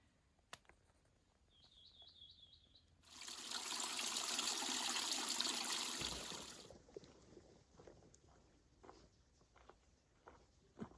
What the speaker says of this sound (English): Water's leaking out of it somehow.